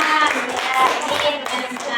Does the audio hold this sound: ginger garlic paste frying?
no